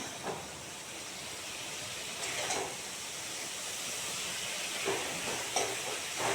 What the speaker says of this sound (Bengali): মশলা ভাজা হয়ে গেছে দেখুন